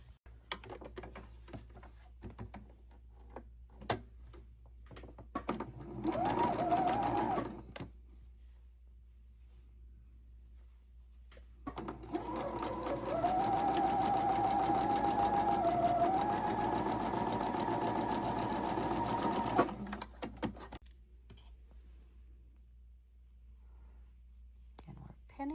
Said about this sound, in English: Back to the sewing machine.